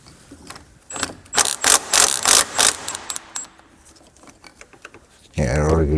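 A ratchet loosens a pulley on a Toyota engine, like that of a third-generation 4Runner, in a garage: a run of sharp, close clicking strokes in bursts, then metallic clinks and a deeper mechanical hum at the end.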